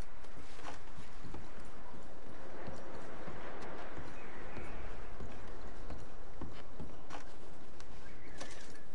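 Horse hooves clop in a steady rhythm in Red Dead Redemption 2 gameplay over a dense, loud ambient bed, close and continuous with no talking.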